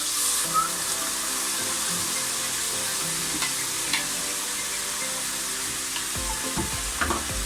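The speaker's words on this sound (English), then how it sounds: "We want to cook that sauce through for about 30 seconds to a minute because it's got raw garlic in it" Sweet and sour sauce with raw garlic and caramelised pineapple pieces cooks in a pan, giving a steady close sizzle and bubble with a few light scrapes of stirring near the end.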